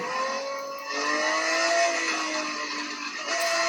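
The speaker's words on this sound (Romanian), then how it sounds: "atât de tare mă atrag sunetele făcute de acest Lambo" A high-revving Lamborghini engine in the video game Need for Speed Most Wanted 2012 whines steadily, rising and falling in pitch as it accelerates, loud and close with no talking.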